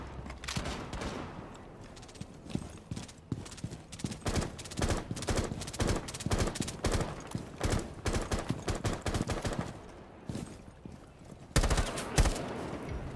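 Rapid gunfire from the video game Rainbow Six Siege fills the whole stretch: dense, overlapping bursts and single shots, loud and close, with short pauses and a heavier volley near the end.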